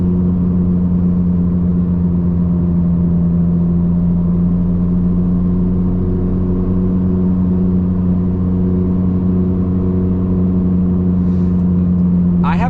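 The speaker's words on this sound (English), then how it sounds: "I have to shout over that wheel bearing" Steady low drone and hum inside a moving 2014 Dodge Dart GT automatic with a worn rear wheel bearing, a loud continuous roar with whirring tones that holds level throughout, with a brief brighter noise at the very end.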